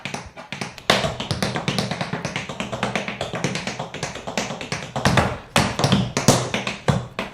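Tap dance shoes striking the floor in rapid push, brush, step patterns, a dense, steady stream of crisp close taps in a driving rhythm with no talking.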